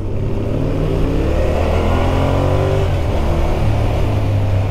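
A 2023 Yamaha Tenere 700 World Raid motorcycle engine hums steadily while riding, a loud continuous drone with rising and falling tones and heavy wind rumble underneath.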